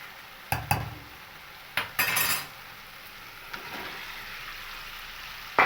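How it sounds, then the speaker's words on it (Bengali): Fried potatoes and cauliflower are tipped into a masala and stirred, with a few sharp spoon clanks and scrapes against the pan over a faint background sizzle. "এবার এর মধ্যে দিয়ে দেবো ভেজে রাখা আলু আর ফুলকপিগুলো।"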